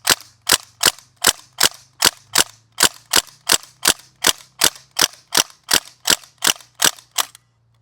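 A North East STEN airsoft gas gun fires a magazine of BBs in an evenly spaced string of about eighteen sharp, loud cracks, each with a brief mechanical clack, over a faint low hum, then stops.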